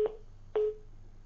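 Two short telephone line tones during a failed call-in to a television news debate, each a clear beep with a quick attack and a fading tail, about half a second apart, with no talk.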